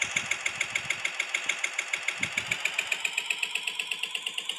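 Motorbike engine from the video game Bus Simulator Indonesia, a steady rapid mechanical chugging pulse with a high whine, clear and alone at moderate level.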